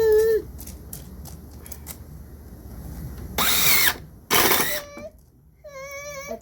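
A power drill drives screws during backyard cleanup in two short, loud whirring bursts separated by quiet pauses, while a child's whiny cries and babbling come and go around them.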